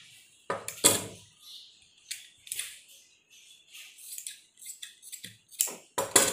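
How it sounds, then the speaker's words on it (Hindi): Scissors snipping away extra cloth from a suit, a series of sharp, close metallic cuts in an uneven rhythm, roughly a dozen snips separated by short quiet gaps. "और जो एक्स्ट्रा कपड़ा है हम उसको कटिंग कर देंगे"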